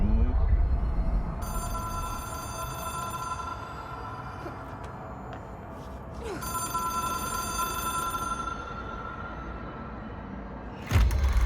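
A telephone rings in the video game Control, with shrill, bell-like rings in two long bursts separated by a pause. Underneath is a low rumbling ambience, and a sharp thud lands near the end.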